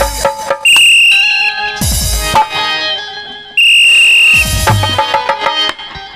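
A whistle blown by a performer standing on a chair during a Chhattisgarhi nacha folk theatre show: loud, shrill sustained blasts, two long ones separated by a gap, amid drumming and stage music.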